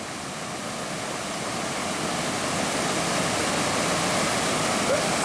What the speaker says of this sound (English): Just down below the weir now,